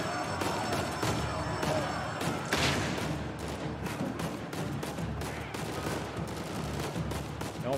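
Dense, continuous gunfire from a firefight in Uncharted: Legacy of Thieves, with overlapping shots and bursts packed over steady game audio, loud and unbroken throughout.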